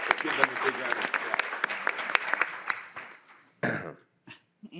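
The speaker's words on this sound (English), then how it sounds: "let's give them a big round of applause" A small audience at a Board of Education meeting gives a round of applause. The scattered, uneven clapping fades out after about three seconds, leaving a few faint noises and a murmur of voices.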